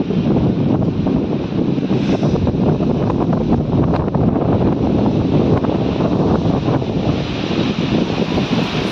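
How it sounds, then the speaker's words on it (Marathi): Strong wind at Tungareshwar roars and buffets the microphone in a loud, continuous low rumble with no pauses and no voices. "बापरे काय जोरात वारा आलाय"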